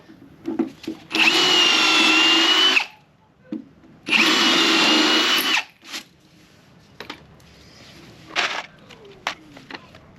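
A power drill bores small pilot holes through decking into a wooden beam over a concrete porch, two loud whining bursts of about two seconds each, separated by pauses with faint handling clicks and knocks.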